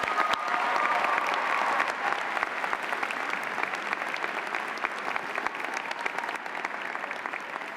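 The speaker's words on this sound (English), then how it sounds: "Graduates, let's give your family a big round of applause." Sustained applause from a large crowd at a commencement ceremony, steady dense clapping throughout with no pauses, a few faint voices mixed in.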